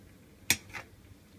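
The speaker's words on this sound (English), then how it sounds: "So I'm stirring a little bit just to let the ingredients go about everywhere to make a nice colorful pan." Vegan giant beans being stirred in a pan, with one brief metallic clink of a utensil against the pan and a softer scrape just after it, close but quiet, over near silence.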